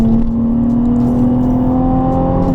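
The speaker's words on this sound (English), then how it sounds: "The beauty of the VQ is it screams." A loud, high-pitched Nissan 350Z VQ V6 engine with its muffler deleted drones steadily at sustained revs, a constant whining tone with no pauses or voices.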